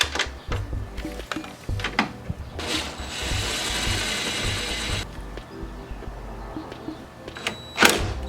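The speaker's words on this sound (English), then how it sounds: "you are going to be removing these with an 11mm hex socket" Ratchet fitted with an 11mm hex socket working the tail light nuts on a 2005-2014 Ford Mustang, giving bursts of clicking and a sustained stretch of rapid ratcheting in the middle, close and moderately loud.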